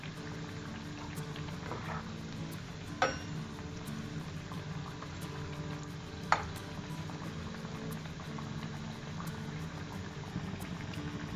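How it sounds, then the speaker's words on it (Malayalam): An egg snack, mutta kokkachi, deep-fries in hot oil with a continuous soft bubbling hiss, while two sharp clinks of a utensil stand out partway through. "ഇതിപ്പോൾ എണ്ണയിൽ നന്നായിട്ട് ഡീപ്പ് ഫ്രൈ ആയിട്ട് വന്നിട്ടുണ്ട്."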